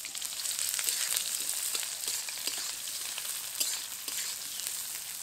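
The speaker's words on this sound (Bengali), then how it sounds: "পেঁয়াজ কুচোটাকে খুব হালকা তাপে লাল করে ভাজবো।" Chopped onions fry in oil with bay leaf, cumin and cracked cardamom for a mutton curry, a continuous bright close sizzle with faint scraping stirs throughout.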